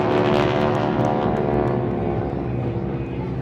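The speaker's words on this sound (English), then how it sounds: "once again overhead, the flight of T6s" A flight of T-6 propeller airplanes drones loudly overhead during a Memorial Day parade, a broad, rumbling roar that stays strong throughout and eases slightly toward the end.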